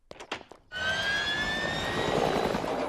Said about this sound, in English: Quick, to the Peter copter!